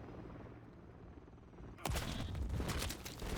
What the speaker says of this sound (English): wow, my team just shot me.